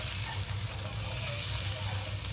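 Masala for surmai fish sautéing in a pan, a steady, close, dense sizzle with a low bubbling undertone running throughout without pause.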